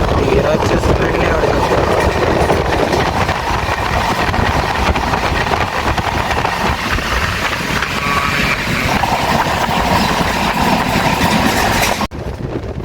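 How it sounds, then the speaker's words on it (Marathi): A Jan Shatabdi express train runs nonstop at around 110 km/h on the Mumbai to Konkan route, heard from inside as a dense, continuous rumble and rattle, loud and unbroken, ending in a brief sharp drop near the end. "आपली ट्रेन नॉनस्टॉप 110 115च्या स्पीडने नॉनस्टॉप चालू आहे."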